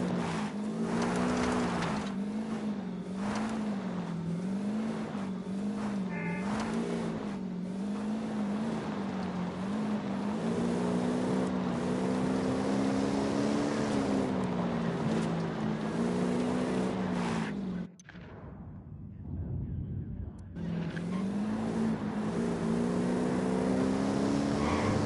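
A vehicle is driven along a mountain patrol in Ghost Recon Wildlands, with a steady, wavering engine drone throughout. The drone drops out briefly near the end, and scattered road and tire noise sits over it.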